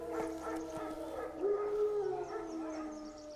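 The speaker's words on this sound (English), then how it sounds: "Wild dogs. Yes. More dangerous than wolves." Wild dogs howl in The Witcher 3 video game, with a long rising and falling howl in the middle and fainter howls around it over a low ambient background.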